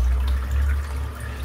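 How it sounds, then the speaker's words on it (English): Cold water splashes and runs over a freshly shaved face at a sink, a steady close wash of liquid with no speech. "I'm just going to finish off now today with just a splash of cold water."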